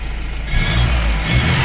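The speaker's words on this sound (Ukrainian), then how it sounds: "Моторчик наш просто муркоче тихесенько." A Chevrolet Aveo 1.5 engine idles quietly after cooling system work on a repaired cylinder head, a low steady hum with an even rhythmic pulse and no voices.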